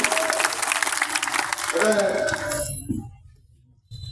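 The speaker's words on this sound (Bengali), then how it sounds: "এই জন্য তাদের হাততালি" A crowd claps for a farmers' group at an outdoor district BNP tree-planting program in Gaibandha, dense applause with voices mixed in that fades to quiet near the end.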